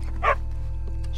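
A single short bark from a dog in the video game Red Dead Redemption 2, brief and moderately loud over a low steady background hum.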